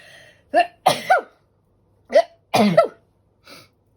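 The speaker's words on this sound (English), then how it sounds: "I'm going to sneeze." Two quick sneezes in succession, a sharp gasp then an explosive burst each time, close up, followed by a small breath.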